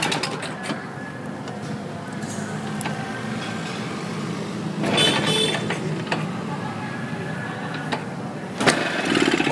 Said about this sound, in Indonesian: ini dia suara si NSU. Wah, suaranya merdu banget ya Om.